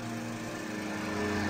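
A lawn mower engine running in the video game Brownies, a steady droning buzz with a constant tonal hum, loud and unbroken for a moment with no talk.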